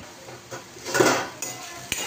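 Toor dal being mashed with salt in a pot makes soft scraping and clinking of a metal utensil against the pot, a few close knocks over a quiet background.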